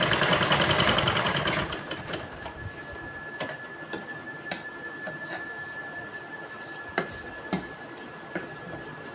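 A sewing machine stitching a baby dress runs in a fast, close clatter for about two seconds, then stops, leaving scattered faint clicks and taps.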